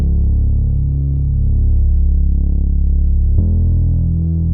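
A loud, sustained low bass tone with a gritty, distorted edge holds one note, then shifts to another near the end.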